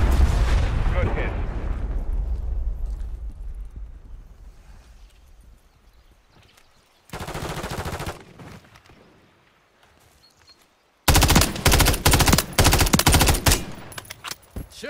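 Artillery fire-mission strike in Call of Duty MW3 during a Team Deathmatch on the Estate map: a booming rumble that fades, then loud bursts of rapid impacts and gunfire in two separate waves.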